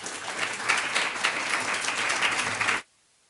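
An audience at a campus humanities institute event applauds warmly to welcome a speaker: dense, sustained clapping that holds steady for about three seconds, then stops abruptly into silence.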